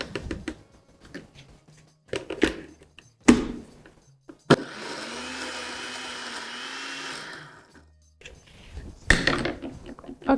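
A blender whirs steadily for a few seconds as it purées cassava for fufu, with clattering knocks and spoon sounds before and after the run.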